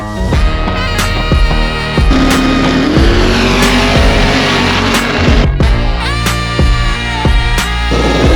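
At LS Fest West in Las Vegas, a manual twin-turbo car does a loud, sustained burnout. Continuous engine roar and tire squeal rise and fall, broken by sharp bangs and pops, with no talk.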